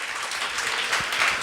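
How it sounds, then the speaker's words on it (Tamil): An audience bursts into sustained applause for someone, a thick wash of many hands clapping at once, even and continuous, fairly loud with no speech on top. "கைத்தட்டுங்க ஒரு அவருக்கு."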